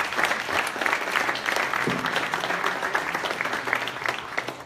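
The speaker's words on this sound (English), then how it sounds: "Big applause, guys." Audience applause at a tech meetup's lightning talks session, a dense, steady clapping from a full room lasting throughout, with light crowd murmur underneath.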